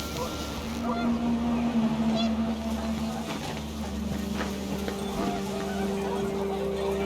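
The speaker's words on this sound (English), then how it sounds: "The wind picked up and panicked geese appeared and quickly went." Panicked geese honk in the What Remains of Edith Finch video game, set against a steady roar of wind and water, with a few faint honking calls rising over the ambience.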